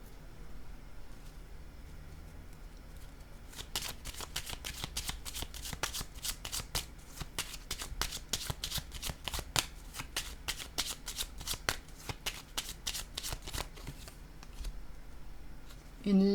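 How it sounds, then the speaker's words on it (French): Playing cards shuffled and laid down on a table in a rapid run of crisp riffling snaps that continues through most of the stretch, close and fairly quiet, with no talking. "Je vais déposer une carte sur menacer."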